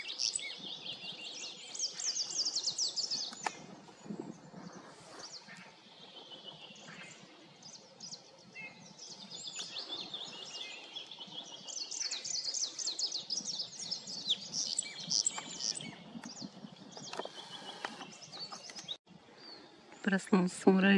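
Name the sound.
small birds chirping, birds that visit a feeder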